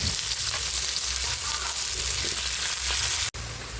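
Shrimp paste (alamang) sizzles steadily in a frying pan of pinakbet with tomato and squash, a loud, continuous hiss of frying oil that cuts off abruptly near the end.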